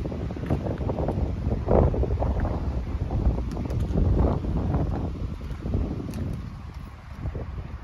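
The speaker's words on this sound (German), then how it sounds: "sehr, sehr windig." Strong wind blows outdoors, a loud steady rumbling roar of microphone buffeting with surging gusts that eases slightly toward the end, with no talk over it.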